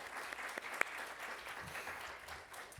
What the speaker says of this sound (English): Let's give a big round of applause for our sponsors.